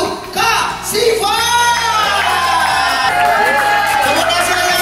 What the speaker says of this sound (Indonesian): tepuk tangan yang paling meriah untuk Kak Siva.